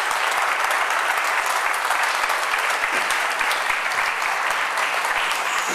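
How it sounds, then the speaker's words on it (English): A large audience applauds loudly and continuously for a guest introduction, dense clapping filling the whole stretch without letting up. "let's give him a big round of applause."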